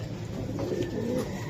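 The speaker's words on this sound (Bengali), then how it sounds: "কবুতর গুলো আমার বাড়িতে পড়ে রয়েছে।" Domestic Giribaz pigeons at a house coo softly in low, rolling murmurs that overlap steadily for a moment, with no talking.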